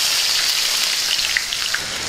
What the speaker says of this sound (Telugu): ఉల్లిపాయ ముక్కలు వేసుకుందాం